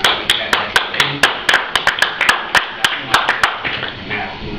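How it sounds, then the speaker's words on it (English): An audience claps in an irregular patter of sharp hand slaps, fairly close and steady, with a murmur of voices underneath. "for those who are clapping"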